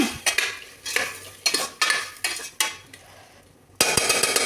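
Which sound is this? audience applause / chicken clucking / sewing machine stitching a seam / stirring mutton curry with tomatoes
stirring mutton curry with tomatoes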